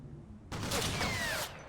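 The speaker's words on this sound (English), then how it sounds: "so that's a heavy machine gun set up down here" Heavy machine gun fire in the wartime strategy game Combat Mission: a single dense, rattling burst of about a second that starts abruptly and cuts off, heard fairly close over quiet background.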